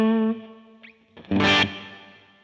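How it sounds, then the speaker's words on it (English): An electric guitar run through a Line 6 Helix with hall reverb placed after the amp rings a sustained distorted note that fades, then a loud strummed chord blooms and decays into a smooth, lingering tail. "Okay, so we have some hall reverb there."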